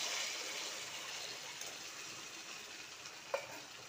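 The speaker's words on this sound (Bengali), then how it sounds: "আলুগুলো ভাজা হয়ে গেছে, নুন দিয়ে দিলাম," Potato pieces fry in a pan of oil while being cooked with tomato, giving a steady, close sizzle and hiss throughout, with a brief stir or clink near the end.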